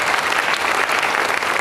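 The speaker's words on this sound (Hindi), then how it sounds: "एक बार जोरदार तालियों प्लीज" Steady, dense audience applause from a seminar hall crowd, loud and continuous throughout with no pauses.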